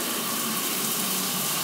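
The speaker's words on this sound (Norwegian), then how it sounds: "Så har vi dusjen vår. Det en litt sånn der waterfall dusj." Steady, full-band rush of a waterfall-style shower running continuously in a bathroom, close and loud with no talk over it.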